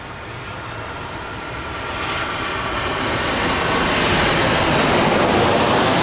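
Ryanair jet airliner passing at Birmingham airport, its engine roar swelling steadily louder as it draws nearer, rising to a strong close rush with no talk.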